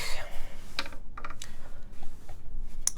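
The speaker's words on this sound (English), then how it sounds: "Numpad typing test." Keys clatter on the numpad of a CannonKeys Brutal v2 1800 mechanical keyboard, a quick uneven run of close, crisp clicks and thocks over light background noise.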